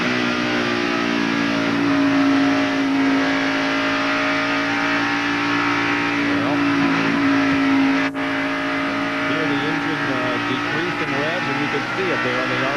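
NASCAR Winston Cup stock car at Darlington Raceway in the 1991 Southern 500, its engine holding a loud, sustained droning rev with shifting pitch throughout, under a broadcaster's talk.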